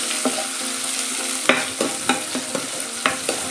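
Chopped onion, bay leaf and curry leaves sauté in hot oil for a drumstick curry, a steady close sizzle broken by several sharp scraping stirs of a spoon against the pan, with no voices.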